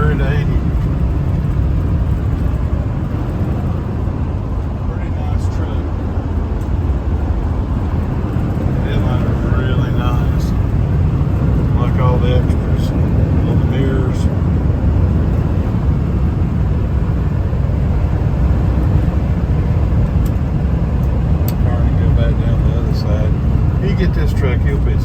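A Ford F350 4x4 crew cab turbo diesel pickup with a veterinarian box runs at highway speed, a steady loud drone of engine, tires and wind noise with no letup throughout.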